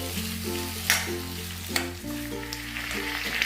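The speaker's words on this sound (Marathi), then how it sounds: "बरबटीचे दाणे वालाचे दाणे हरभरे गाजर परतून घेते" Cowpea and lima beans, chickpeas and carrot sauté in a pan for Bhogi bhaji, giving a steady, close sizzle with a few louder stirring bursts over soft tonal music underneath.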